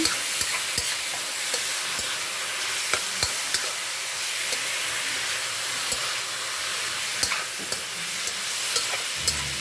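Bam-i noodles with seasoning being stirred and fried in a pan, a constant hissing sizzle with regular light clicks and scrapes of the utensil throughout, close and steady.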